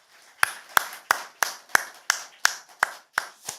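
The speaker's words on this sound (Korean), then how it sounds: "이 시간 하나님께는 영광을 또 찬양대에겐 격려의 마음 담아서 크게 박수 한번 할까요?" A congregation at a Korean Methodist church claps for the choir in unison, about eleven sharp, evenly spaced claps at a steady beat. There is no talking over the clapping.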